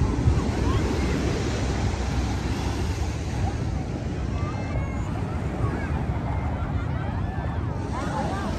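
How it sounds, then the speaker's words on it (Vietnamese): Gentle sea surf breaking steadily on Nhơn Hải beach in the late afternoon, with light wind rushing across the microphone, a constant broadband wash that continues without a break throughout. "ít sóng, gió nhẹ."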